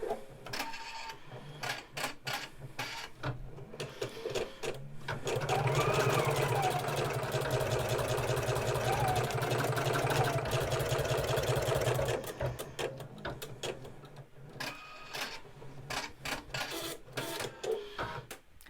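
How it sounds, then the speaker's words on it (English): An embroidery machine stitches a box outline in rayon thread, a close, rapid, steady mechanical chatter with a voice speaking briefly over it. "the first thing we need to do is stitch our box."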